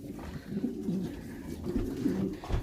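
Racing pigeon cock bird cooing near the loft, several low throaty coos in a repeating rhythm, close and clear without any talk.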